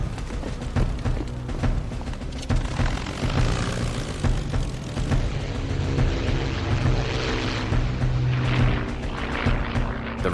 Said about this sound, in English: 6 Spitfires from 74 Squadron, based at Hornchurch, are scrambled.